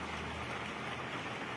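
Steady rainfall over Srinagar, a dense, even hiss of falling drops that stays constant throughout, with faint low rumble beneath and no voices.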